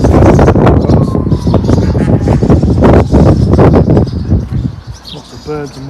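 Birds call along the River Bure near Acle Bridge under heavy, blustery wind noise. Short chirps and coos rise near the end as the gusts ease.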